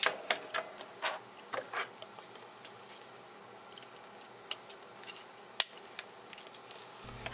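Small wire snips cut excess component leads after soldering on an electronics circuit board, giving a few faint, sharp clicks and snips scattered over quiet room noise.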